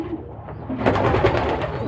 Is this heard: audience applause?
no